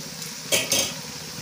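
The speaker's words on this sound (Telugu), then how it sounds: "సో బాగా మనకి రెడ్డిష్గా వచ్చే వరకు మనం ఫ్రై చేసుకోవాలి" Chicken pakodi frying in a pan gives a steady close sizzle, broken by two quick metallic scrapes of a utensil against the pan, with no talk.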